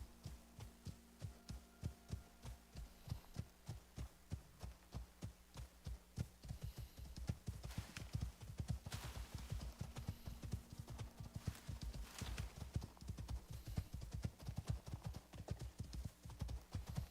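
Galloping horse in the survival game Icarus, a steady run of rhythmic hoof clip-clops, faint and close, continuing without a break and picking up slightly in density midway.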